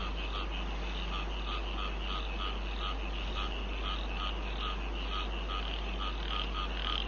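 Frogs croak in a dense, continuous outdoor chorus with a steady pulsing rhythm. A low constant hum runs underneath, and no voices are heard.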